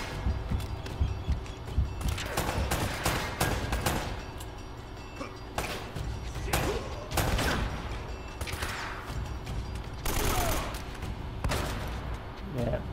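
Shotgun fire in Uncharted: Drake's Fortune, repeated loud blasts at irregular intervals among other gunfire and clattering combat sounds, with a player's speech over parts of it.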